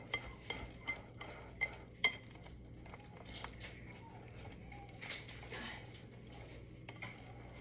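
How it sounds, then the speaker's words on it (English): A whisk beating batter in a bowl and scraping around its sides, soft quick clinks and taps early on, then quieter stirring, faint and close. "you're just gonna whisk it until it's fully incorporated. Making sure to like scrape it off the sides as well."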